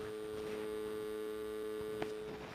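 A stalled homemade brushless DC motor driven by a homemade ESC gives a steady electrical hum with a tonal whine, faint and continuous with a small click near the end.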